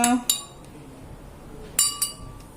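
A spoon stirs Sulaimani tea with a squeeze of lime in a glass, giving four bright, close clinks in two quick pairs with quiet gaps between them.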